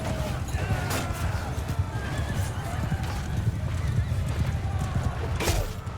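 Horses in a Mount & Blade II Bannerlord battle, galloping hooves pounding steadily with a loud neigh near the end, close and busy amid clashing combat sounds, with a voice talking over the action.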